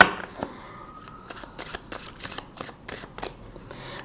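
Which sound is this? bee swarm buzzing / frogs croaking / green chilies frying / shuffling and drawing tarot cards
shuffling and drawing tarot cards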